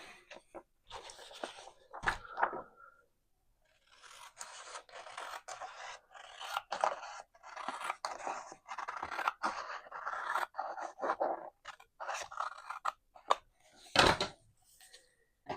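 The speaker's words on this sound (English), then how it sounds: "We're just going to cut that side off." Scissors snip along the edge of a printed paper picture for a 3D printed circular jigsaw puzzle, giving a run of close, dry cutting and scraping strokes with short pauses between them.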